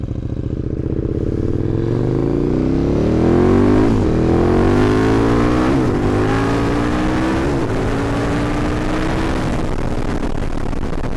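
A KTM 1290 Super Duke R motorcycle engine roars close by, climbing in pitch through several gear shifts as it accelerates hard toward top speed, with wind rush building steadily underneath.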